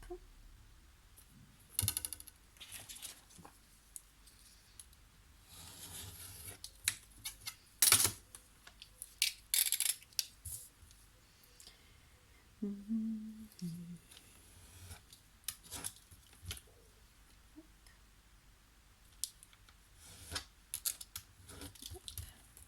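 Scissors snip through a paper card for a handmade pop-up surprise card, giving scattered short crisp cuts with a few louder snips, close and moderately quiet, with no talk.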